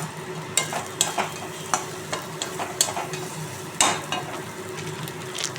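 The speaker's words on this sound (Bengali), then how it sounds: "এই যে আমি এদিকে 5 ফোড়ন সম্বার দিয়ে আলুটা ভালো করে ভেজে নিচ্ছি" Potatoes fry in a pan with five-spice and turmeric, giving a moderate sizzle broken by repeated clicks and scrapes of a spatula stirring at a fairly even pace.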